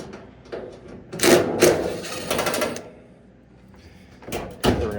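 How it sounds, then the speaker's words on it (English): A power screwdriver removes Phillips head screws from the front door panel of an LG dryer, giving short bursts of whirring and clicking with metallic clatter, close and fairly loud, separated by quieter gaps. "we're gonna take these Phillips head screws out here"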